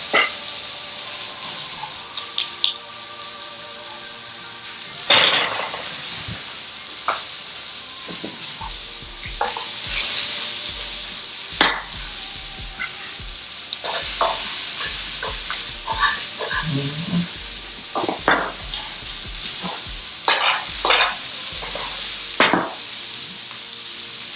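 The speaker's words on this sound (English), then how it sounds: "So we're probably gonna get a good sear for about 3 minutes on each side." Seasoned vegetables and salmon sear in a hot pan, a steady broadband sizzle and hiss running throughout with scattered sharp clicks and clatters of utensils, close and moderately loud with no talking.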